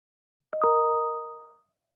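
A single two-tone electronic email notification chime rings out clearly, with a sustained, slowly fading tone lasting about a second, alone in silence.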